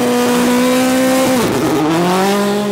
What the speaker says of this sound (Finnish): Siinäpä lähti erittäin harvinainen Fiat 128 Coupé.